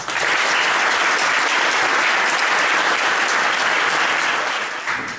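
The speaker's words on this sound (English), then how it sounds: "I'm sure that I will not get that kind of an applause in my own country" Audience applause welcoming human rights lawyer Asma Jahangir to the stage at a Berkeley speech: dense, sustained clapping from a large crowd, steady and loud throughout before easing slightly at the end.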